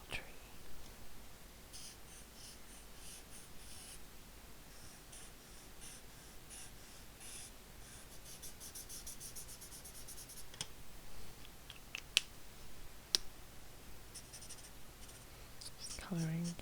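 A forest green Promarker sketches a small tree on paper, soft scratchy strokes coming in short bursts close up, with quiet whispering between them.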